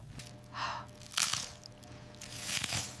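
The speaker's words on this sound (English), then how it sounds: "Oh my goodness, that crunch, that juicy chicken inside." Crispy Southern fried chicken, buttermilk-brined and double-dredged, is bitten into with several close crunchy chews spread across a few seconds against a quiet background.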